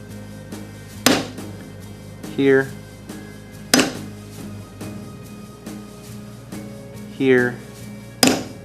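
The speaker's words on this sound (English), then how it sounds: "I'm going to mark the holes using this punch and using this hammer." A hammer gives a small metal punch sharp taps to make indentations in metal for rivet holes while working on jewelry. Three crisp, loud strikes come at regular intervals, each followed by the speaker's voice.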